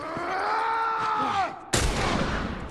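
A single loud rifle shot in a video game lands near the end, sudden and sharp with a long decaying tail, after a droning tonal game sound that bends down in pitch.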